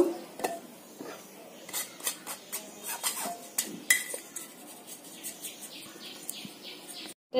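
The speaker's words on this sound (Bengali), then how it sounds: "একটা চালি নিয়ে নিয়েছি আমি এখানে টেলে টেলে নিব এক কাপ ময়দা বেকিং পাউডার হাফ চামচ এগুলি একসঙ্গে এখন চেলে নিব" Flour and baking powder being sifted through a sieve while making a semolina cake, a series of light rhythmic metallic taps and scrapes at close range, fairly soft, ending in an abrupt knock.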